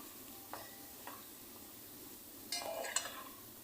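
Potato mixture stirred in a pan over low heat, a few soft spoon scrapes and brief clinks over a faint, steady sizzle, close and quiet with no voices.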